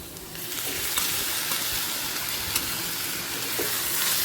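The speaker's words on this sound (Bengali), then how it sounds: "চিংড়ি মাছটা পেঁয়াজের সাথে ভেজে নেব দু মিনিট মাঝারি ফ্লেমে দু মিনিট ভেজে নেব" Shrimp fry with onion in a pan over a medium flame, giving a steady, dense sizzle with occasional crackles and stirring scrapes throughout.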